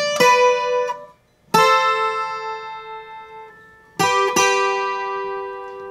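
Requinto guitar playing a song, three bright plucked notes or double-stops high on the neck, each ringing out and slowly decaying, close and clear with no talking.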